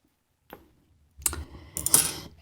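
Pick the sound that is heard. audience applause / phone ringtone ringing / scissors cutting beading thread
scissors cutting beading thread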